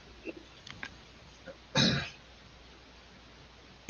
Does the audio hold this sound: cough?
yes